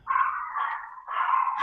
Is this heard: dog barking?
yes